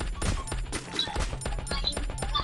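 Rapid bursts of automatic gunfire from a battle royale shooter video game, repeated volleys and single shots crackling loud and close with brief gaps between, with faint distant shots mixed in.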